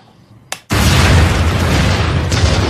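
A powerful film explosion as a couple blow themselves up: a brief sharp pop, then a loud sustained roaring blast with rumbling debris that fills the rest of the moment.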